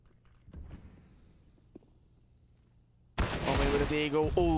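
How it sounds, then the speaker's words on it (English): Desert Eagle pistol fire in a CS:GO esports match: faint, sparse shots and clicks over a quiet stretch, then a sudden loud burst of close gunfire mixed with game noise. "Tommy with a deagle. Ooh, drops 1."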